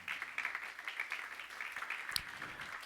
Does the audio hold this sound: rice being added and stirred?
no